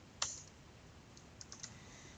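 Quick clicks of a computer keyboard as a league name is typed: a sharp keystroke followed by a few lighter taps, close and isolated in a quiet room.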